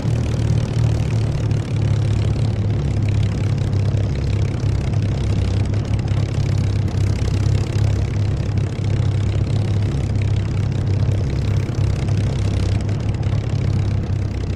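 A propeller aircraft engine idles in the DCS flight simulator game, a loud, steady low droning hum that holds unchanged throughout with no talking.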